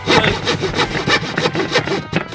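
A jab-saw style tool pierces and cuts through plasterboard, making loud, close sawing strokes in a quick uneven rhythm with no talk.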